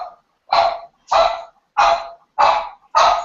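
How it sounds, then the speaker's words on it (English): A pet dog barks indoors: five loud, close barks in a steady rhythm about every half second, with nothing else heard between them. "I don't know what she's barking at."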